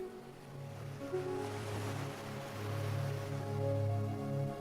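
Ocean waves washing in soft, slow swells under a steady low tonal drone, calm and moderately quiet.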